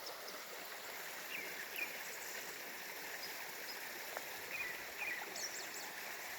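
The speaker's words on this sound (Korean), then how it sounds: "물소리." A mountain stream in a forested valley gives a faint, steady wash of flowing water, with a few soft bird chirps above it.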